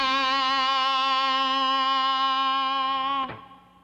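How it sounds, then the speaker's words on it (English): Electric guitar through an XXL distortion pedal with a hot boost on a Tech 21 Fly Rig: one sustained, harmonically rich distorted note rings for about three seconds, then is cut off abruptly. "So here is the XXL pedal with just a hot boost."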